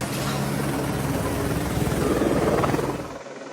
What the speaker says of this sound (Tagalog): 2 helicopter ng pulisya ang namataang lumipad sa ibabaw ng compound